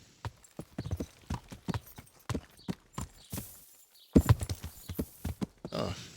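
Horse hooves clip-clop steadily and close on a farm in the video game Kingdom Come: Deliverance, a run of even, rhythmic strikes that briefly pauses midway before picking up again.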